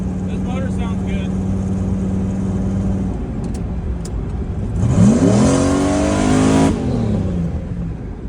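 A newly installed remanufactured car engine idles with a steady low drone, then revs up sharply for a couple of seconds before settling back down, while people talk nearby.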